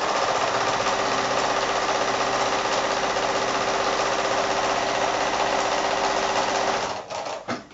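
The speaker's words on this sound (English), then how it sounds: "And back to the sewing machine again." Sewing machine stitching quilt strips through batting and backing in one pass, a loud, steady, fast mechanical whir running continuously before slowing and stopping near the end.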